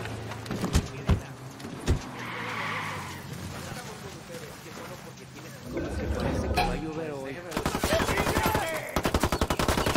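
Gunfire rattles in Ghost Recon Wildlands, with sharp single shots, then game sounds and a closing flurry of rapid automatic bursts, while game voices talk throughout.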